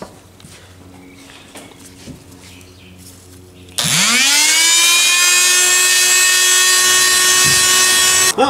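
Multimax oscillating tool fitted with a Scotch-Brite pad on a Marlin 88 rifle part switches on abruptly after quiet handling noises, a loud steady high-pitched whine that winds up and holds for several seconds before cutting off.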